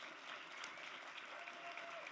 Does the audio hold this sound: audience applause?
yes